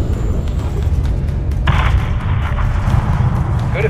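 A missile strike levels a hangar in Call of Duty MW3: a sustained, loud rumbling barrage with a sharp burst of blast energy partway through, rolling on as a heavy explosive roar.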